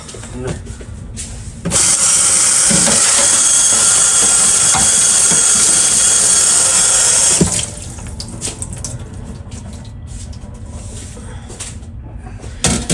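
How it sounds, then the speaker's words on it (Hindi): Water drained from a pot of rice while cooking biryani in a home kitchen makes a loud, steady gushing pour lasting about six seconds, with hiss and steam, set between quieter kitchen clatter. "चलिए फिर से इसका पानी गिराते हैं"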